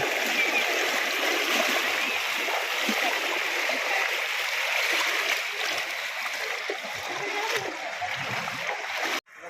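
Floodwater rushing and splashing steadily across a village road, a continuous close flowing hiss that cuts off abruptly at the end.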